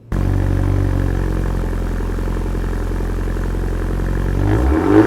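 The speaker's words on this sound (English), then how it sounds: "let me give you a little listen to what these rough country exhaust looks like, or sounds like" A 2025 Ford Bronco with a Rough Country dual exhaust idles with a deep, steady exhaust rumble and low throbbing pulse, rising slightly near the end.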